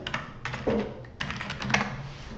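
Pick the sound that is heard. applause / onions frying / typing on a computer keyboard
typing on a computer keyboard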